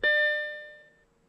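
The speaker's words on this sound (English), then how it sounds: "The gong of death, which is horribly annoying, whether you have your seatbelt undone or low fuel warning" A single Audi A4 instrument-cluster warning gong, triggered during a gauge output test, strikes once, loud and close, then rings out in a clear decaying tone for about a second.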